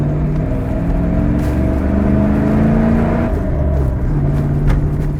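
A large 230-horsepower classic truck engine idles loudly and steadily, its deep rumble rising and falling slightly as it revs, close by with no talking.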